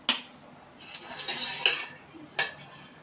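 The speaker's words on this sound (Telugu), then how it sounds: "ఇప్పుడు స్టవ్ వెలిగించుకుని మళ్ళీ ప్యాన్ పెట్టేసుకుందాం." A metal pan is set onto a lit stove with a few sharp clanks and scrapes, followed by a brief rustle and another clatter, close up in a quiet kitchen.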